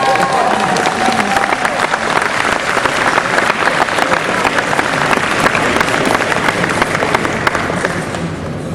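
Crowd of chaplains applauding loudly with some cheers for a fellow chaplain, sustained dense clapping that holds steady close by for the whole stretch.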